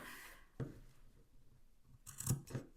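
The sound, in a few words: scissors snipping fabric around the bends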